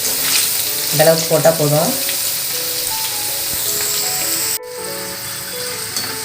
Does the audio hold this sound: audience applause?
no